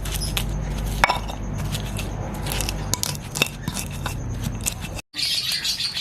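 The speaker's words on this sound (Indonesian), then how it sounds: "Pertama kita haluskan bumbunya terlebih dahulu ya bun" Spices for a quail egg dish, galangal among them, being ground in a kitchen, a dense continuous scraping and crushing texture with scattered sharp clicks before a brief pause.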